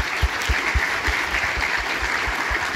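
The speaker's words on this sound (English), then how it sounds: "give a round of applause" Audience applause from a crowd at a Comic Con panel for the Red Dead Redemption II cast, a steady dense wash of clapping with no voices over it.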